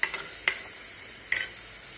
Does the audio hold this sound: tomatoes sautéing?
yes